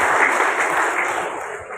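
A crowd at a Cilacap regency event applauds briefly, a dense wash of clapping that starts full and thins out over under two seconds.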